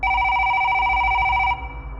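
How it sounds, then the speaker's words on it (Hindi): A telephone rings with a bright electronic double-tone trill, loud and close, cutting off after about one and a half seconds over a low background hum. "फोन बजा"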